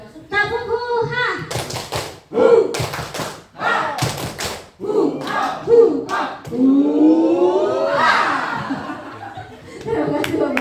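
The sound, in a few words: group clapping chant tepuk huhah with shouts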